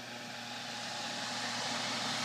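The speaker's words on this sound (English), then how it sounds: "Kitfox 2 coming down from York, Ontario." Steady engine drone of a Kitfox 2 light aircraft coming in to land at a farm airstrip, loud and close and slowly swelling, with no voices.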